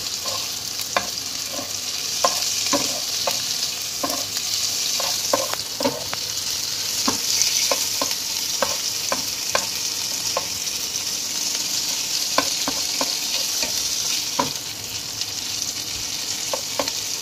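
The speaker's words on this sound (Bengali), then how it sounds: "এবার আমি মশলাগুলো মিশিয়ে দিলাম" A spoon stirs prawn pulao spices frying in a pan, with steady sizzling throughout and frequent sharp scraping clicks against the pan, close and fairly loud, no talking.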